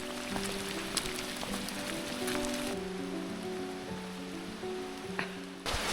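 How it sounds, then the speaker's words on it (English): Heavy rain drums steadily and closely on the roof of a van parked in the Lake District, a dense patter with occasional sharper drips over a low background hum. "The amount of rain that has been coming down today is"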